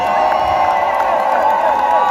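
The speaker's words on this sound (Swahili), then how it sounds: "Let's also take this opportunity to give a warm round of applause to the Deputy President, Professor Kindiki." A large crowd at an official event cheers and whoops for the Deputy President, Professor Kindiki, a loud continuous roar filling the whole short moment.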